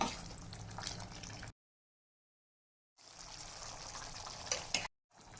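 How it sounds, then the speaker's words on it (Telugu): Water is poured into spicy chicken curry gravy in a pan as two short splashing bursts separated by a silent pause, close up with no talking. "మనకు కావాల్సిన గ్రేవీ కన్సిస్టెన్సీ కోసం వాటర్ యాడ్ చేసుకోవాలి"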